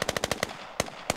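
Machine gun fire in the video game Squad, a rapid burst of about six evenly spaced shots, then two more single shots after a short pause, loud and close with no talk.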